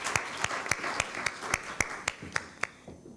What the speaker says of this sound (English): Give him a very big clap.